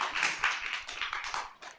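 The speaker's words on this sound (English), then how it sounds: "so clap for Cloudflare" A small meetup audience claps for a sponsor, a brief patter of hands near the microphone with uneven, overlapping claps that fade out over a couple of seconds.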